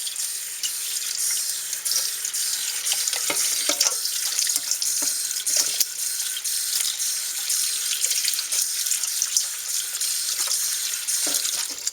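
Cold tap water runs steadily into a plastic ice tray at a kitchen sink, a continuous bright splashing rush with small irregular spatters and drips throughout.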